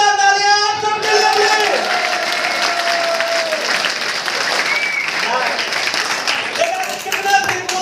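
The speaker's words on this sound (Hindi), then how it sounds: "तो एक बार जोरदार तालियां आप सबके लिए।" Loud, continuous applause from a seminar audience at a motivational training session, steady clapping filling the room for several seconds, with a voice speaking over it at the start.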